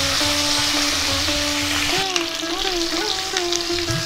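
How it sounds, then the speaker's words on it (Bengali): Pomfret fish sizzles steadily in hot oil, a continuous crackling hiss, with faint voices or tones in the background. "বাকি মাছগুলো ওলট পালট করে ভেজে নিচ্ছি।"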